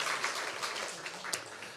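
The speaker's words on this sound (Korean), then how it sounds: "우리 하나님께 영광의 박수 올려드리겠습니다." Congregation applauding during a Korean Sunday church worship service, a steady wash of many hands clapping throughout at moderate level, filling the space without a break.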